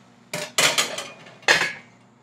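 A spoon knocking and scraping against a cooking pot while stirring bottle gourd curry with milk, a few sharp metallic clinks in two quick bursts, close and loud.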